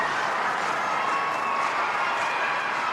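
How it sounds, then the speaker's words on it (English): Amateur hockey arena crowd in Fort Wayne roaring after a tying goal, a dense, sustained wash of cheering and shouting at steady loudness throughout. "that's a crowd. Everyone's going nuts. It's loud in here, folks."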